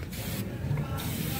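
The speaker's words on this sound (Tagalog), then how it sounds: "Sabi, spray lang daw na ganito." Foamy engine cleaner sprayed from an aerosol can onto a car engine in short hissing bursts, close and moderately loud.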